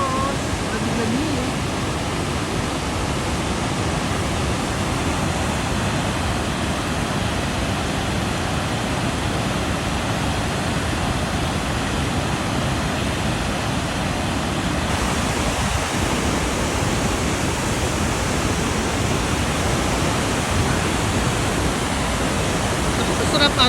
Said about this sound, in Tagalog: And of course, Nugget Falls.